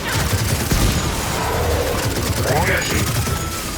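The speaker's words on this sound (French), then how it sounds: "je l'aime bien ce triple canon là" A triple-barrel gun fires in the video game Gears of War 4, a dense continuous burst of gunfire with booming impacts, loud and close, filling the whole span.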